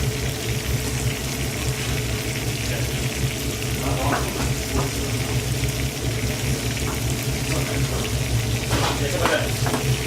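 Mushrooms, onions and leek fry in a pan, a steady close sizzle running the whole time with a few scraping stirs, and no talk over it.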